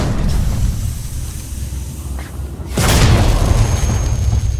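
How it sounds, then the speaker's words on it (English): Flashbang grenade going off in the Alien Isolation game, a sudden loud burst with a hissing, crackling tail that holds steady after a low ambient rumble. "A smoke and a flashbang."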